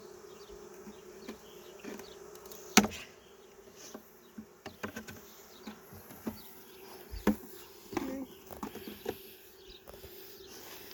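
Honeybees buzz steadily while being installed into a hive, a close, continuous insect drone broken by scattered knocks and taps as the frames and boxes are handled.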